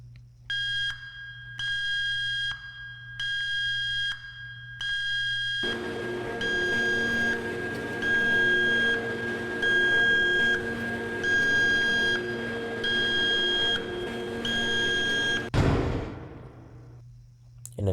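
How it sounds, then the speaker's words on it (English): Beeping from a blast door button panel: a series of evenly spaced electronic beeps, then a longer sustained tone with pulsing beeps layered over a hum, ending in a sharp mechanical thud. "It's gonna beep again."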